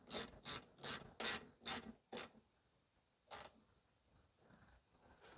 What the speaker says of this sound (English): Next thing is to replace the screw holding the plate on. This is a 10 millimeter.